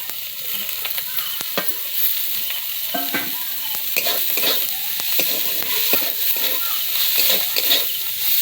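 Chopped cabbage with salt frying in a pan for chicken patties, a loud, dense, continuous sizzle with frequent stirring scrapes and clatters throughout.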